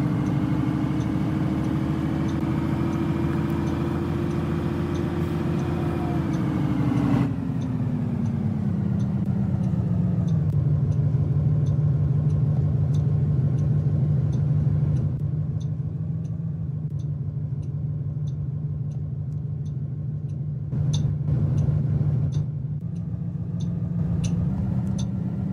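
A TTC Nova Bus LFS express bus on the 996 Wilson route hums steadily from the inside, its engine pitch easing down as it drives, with faint regular ticking over the continuous drone.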